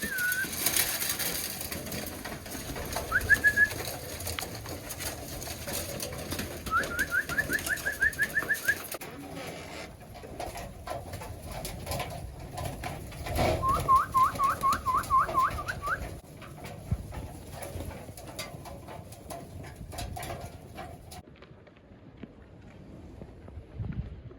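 Racing pigeons cooing indoors in a loft, low murmuring calls broken by short bursts of chirping and faint wing movement, with quiet stretches between.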